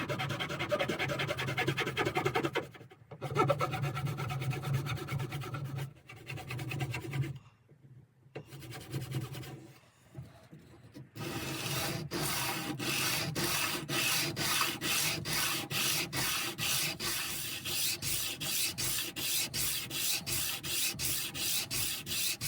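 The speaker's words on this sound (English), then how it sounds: "I am going to just deepen some of these, all of these frets just a little bit" Hand filing deepens the fret slots on a Fender Jaguar guitar neck: after some uneven scraping and pauses, a steady, close, rhythmic rasp of repeated back-and-forth strokes continues without talk.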